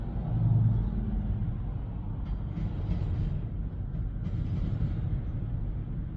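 A slow CSX freight train with four engines rolls past in Emerson, Georgia, giving a steady low rumble and rattle of wagons that stays fairly constant throughout, with no talk.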